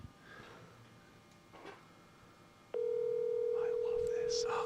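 A phone call's ringing tone comes in partway through, a steady electronic tone holding on without a break after a stretch of quiet room noise with faint voices.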